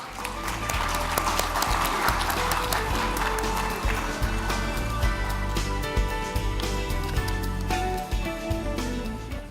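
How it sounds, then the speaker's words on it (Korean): Audience applause welcomes a government vice minister to the stage at a Korean innovation forum, clapping layered over loud upbeat music with a steady low beat that runs throughout. "여러분 박수로 환영해 주시죠."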